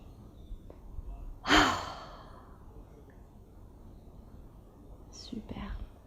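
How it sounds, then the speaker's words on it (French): A single deep inhaling breath during a vinyasa flow yoga class, one strong rush of air near the mic around a steady quiet room tone, followed later by a fainter second breath. "Et une dernière fois, inspirez les belles ondes."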